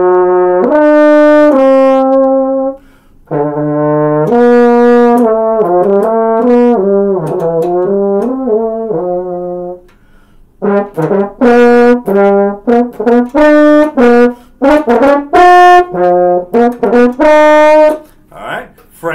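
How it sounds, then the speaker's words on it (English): A French horn plays a series of sustained, rich brass notes in separate phrases with short pauses between them, close and fairly loud, with no talking. "So that is one of the pluses of the French horn."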